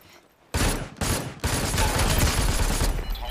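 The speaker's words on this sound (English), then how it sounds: "Oh, I'm being shot at." Gunfire in the video game Super People: sudden loud volleys burst in close by after a quiet start, then rapid sustained firing rattles on almost without break to the end.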